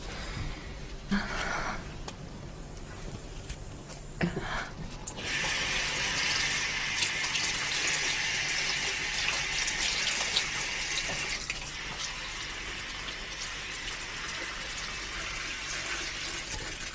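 A water tap runs steadily, a continuous hissing rush starting after a few seconds of quieter room sound with a couple of brief knocks, then flowing evenly to the end.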